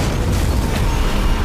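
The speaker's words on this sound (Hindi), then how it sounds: "सिर्फ एक गोली से उसने पूरे हेलीकॉप्टर को हवा में ही उड़ा दिया।" A helicopter blown apart in midair after a shot hits an oil tanker, heard as a dense, deep rumbling blast that roars steadily and loudly throughout.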